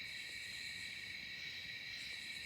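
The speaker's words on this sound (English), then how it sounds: "Just listen. Crickets." Steady, high-pitched cricket chirping fills a quiet night at a campsite, a constant shrill buzz with no voices.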